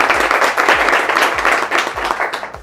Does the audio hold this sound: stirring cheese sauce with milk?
no